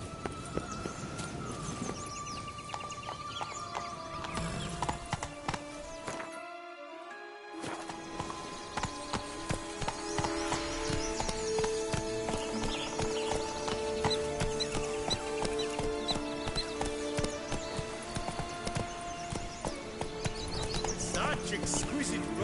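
The horse Roach gallops in The Witcher 3 game, with rhythmic hoofbeats running under a steady musical score, a brief dropout near the middle and a voice speaking at times.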